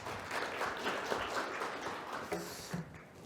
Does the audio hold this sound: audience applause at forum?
yes